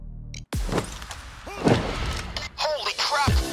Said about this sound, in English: We knocked all three transports off the road!